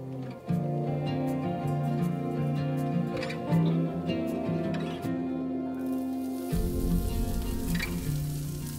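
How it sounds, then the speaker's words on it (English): Onions and garlic sauté in chili oil in a nonstick pan over medium heat, giving a steady close sizzle and crackle throughout, with faint stirring and some background tones. "Saute the onions and garlic for a couple of minutes."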